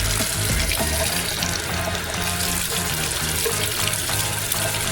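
Tap water runs steadily into a cup in a kitchen while pizza dough is being made, a continuous close splashing stream with no talking.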